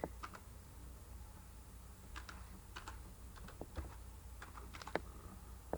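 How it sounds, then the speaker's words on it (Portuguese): Quiet, irregular clicking of keys on a computer keyboard over a low background hum, with short bursts of typing and pauses. "Meu teclado aqui."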